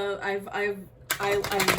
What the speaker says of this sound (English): I haven't even shuffled, so let me shuffle first